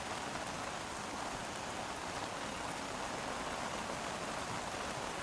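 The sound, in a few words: heavy rain falling on soccer match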